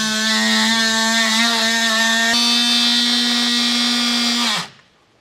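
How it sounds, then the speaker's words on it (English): Oscillating multi-tool cutting into metal while a trailer hitch receiver is installed on a 2018 Volkswagen Atlas: one loud, steady high buzz with a whining tone, running alone for about four and a half seconds before it stops abruptly. "if you have an oscillating tool or a multi-tool, as they call them sometimes, this is really nice"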